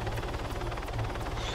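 A helicopter in the military game Arma 3 flies close by, its steady loud rotor chop and turbine whine running unbroken throughout with no speech.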